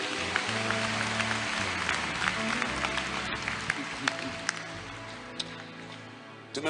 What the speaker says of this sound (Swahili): Si mtu ampe Yesu makofi mazuri.